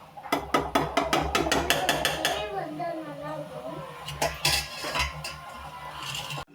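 A plate set down as a lid over a pan of crab rasam, giving a few sharp metallic clanks and clatters of dishware up close, followed by softer rattling handling sounds.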